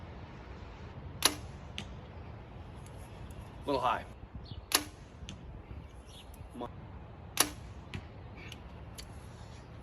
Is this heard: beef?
no